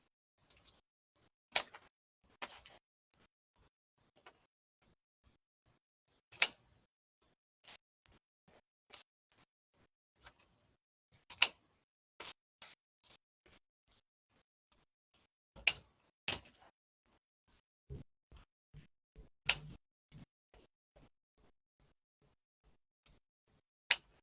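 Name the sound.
scissors cutting out pieces for a gingerbread wreath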